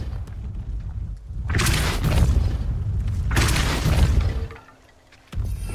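Two heavy, booming bursts of the Depulso spell in Hogwarts Legacy, each a loud, sustained whoosh and crash about a second long, followed by a short quiet gap before another hit begins.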